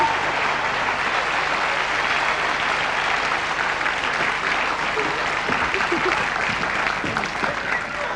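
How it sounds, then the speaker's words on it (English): Applause from a studio audience on a touring comedy game show in Australia, a steady, dense wash of clapping that holds throughout with some faint voices mixed underneath. "Worth a round of applause, I think."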